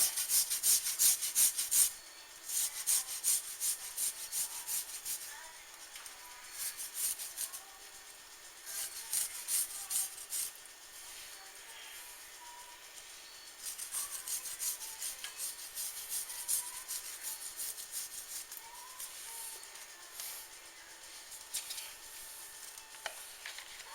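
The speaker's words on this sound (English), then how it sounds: "go ahead and just zest it down in here into the" Garlic gets zested on a grater over a pan of potatoes and onions, a close, dry rasping in short repeated bursts with pauses between strokes, alone and fairly quiet.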